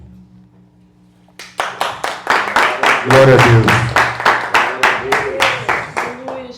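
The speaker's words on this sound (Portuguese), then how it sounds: "Palmas para Jesus." A church congregation clapping hands in a steady rhythmic beat, many pairs of hands together and fairly loud, with a voice calling out over the clapping.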